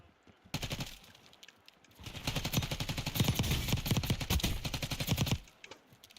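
Video game gunfire under sniper attack, with short bursts of shots at first and then a long, loud run of rapid, evenly spaced shots close by. No one speaks.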